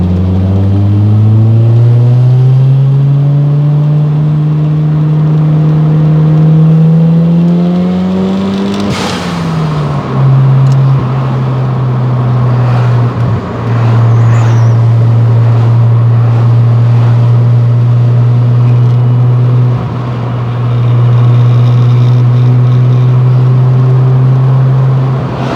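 A turbocharged Mazda RX7 FC rotary engine revs hard on a winding mountain road, a loud, steady, buzzing drone that climbs in pitch, drops briefly at a gear change, then holds high under load throughout.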